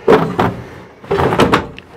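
A small kitchen drawer in a 1994 Airstream Classic RV is pushed shut, giving short wooden thunks and slides heard twice, close and fairly loud, with no talking over them.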